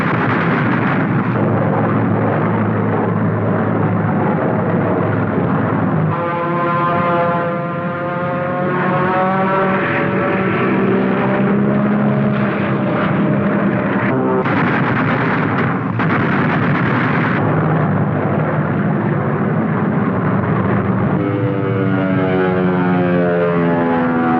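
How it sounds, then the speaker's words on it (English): Propeller drone of Thunderbolt fighters and bombers in 1943 wartime archival footage, a loud steady engine roar with shifting pitch that swells and wavers as aircraft pass, over muffled background rumble. "Bandits are sighted and begin their slashing attacks through the bomber formations, and the Thunderbolts are on top of the attackers."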